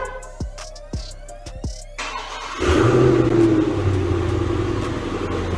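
A push-button-start Mopar car fired with its factory remote start: a few soft clicks and beeps, then the engine cranks and catches about halfway through, settling into a steady, fairly loud idle rumble.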